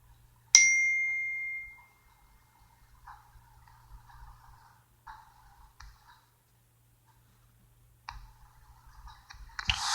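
A mouse click on an on-screen button during an online Saudi family visit visa renewal payment: a sharp click with a brief ringing ding, followed by faint scattered ticks and a quiet hum, no talk.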